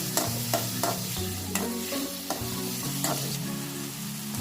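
Tomatoes fry in a pan with a loud, continuous sizzle, broken by repeated stirring scrapes and clinks, with no talk.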